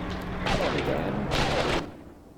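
Machine gun fire in an Eastern Front 1943 combat video game: two sharp, loud rattling bursts about a second apart over a steady battlefield rumble.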